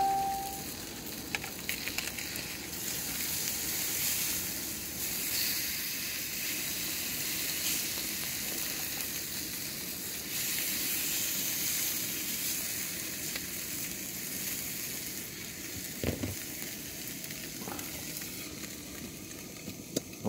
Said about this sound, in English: I'm cooking my bacon roll